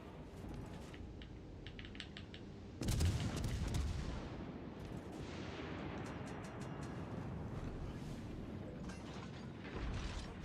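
Naval guns firing in World of Warships Legends: a loud booming salvo stands out over a constant rumbling game background, with rapid clicking mechanical sounds before and after.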